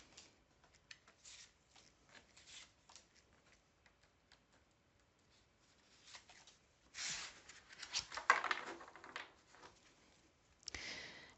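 Tarot cards shuffled and drawn, with soft scattered ticks and rustles giving way to a louder burst of riffling flicks near the end, close and alone without speech.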